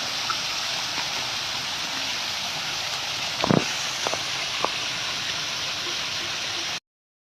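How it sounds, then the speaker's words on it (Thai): A waterfall at a Thai temple rushes in a steady, loud broadband roar, broken once by a brief thump and a few faint clicks before cutting off abruptly. "น้ำตก"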